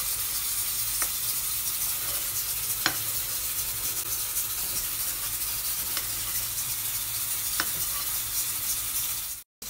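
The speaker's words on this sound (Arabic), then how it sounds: "ودرنا الزيت يسخن ان شاء الله غادي نقلبها هكا" Dough for Moroccan maqouda fritters fries in hot oil with a soft, constant sizzle, broken by a few sharp clicks of a utensil against the pan, then a sudden cutoff.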